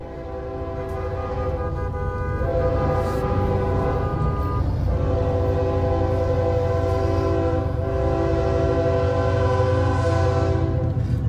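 A train rumbles past a railroad crossing where a bus has stopped too close to the track, its horn blaring in long sustained blasts over the steady roar of rolling cars, loud and near throughout.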